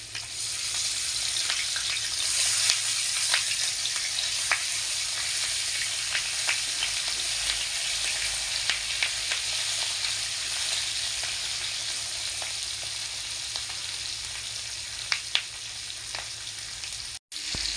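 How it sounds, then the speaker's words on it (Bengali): Bata fish frying gently in hot oil for a tamarind sour dish, a steady close sizzle with scattered small pops and crackles running unbroken throughout, no voices. "মাছ কিছুক্ষণ এভাবে তেলের মধ্যে ছিল, এখন আমি আস্তে আস্তে করে তেলের মধ্যে এভাবে শুইয়ে দিচ্ছি"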